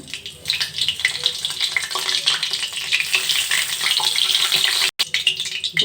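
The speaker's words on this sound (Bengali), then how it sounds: "এই তেলের মধ্যেই পরিমাণ মতো গোটা জিরে দিয়ে দিলাম" Whole cumin seeds crackle and sizzle in hot oil left over from frying elephant foot yam and taro, a steady, loud, close frying hiss with a brief cut near the end; no voices.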